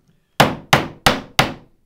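Four sharp hammer taps land in an even rhythm, each a crisp close strike with a short decay, driving a fret into a ukulele neck in an otherwise quiet room.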